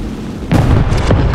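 A bomb from a dive-bombing plane in War Thunder explodes with a sudden loud boom that bursts in and rumbles on briefly, with crackling debris after the blast.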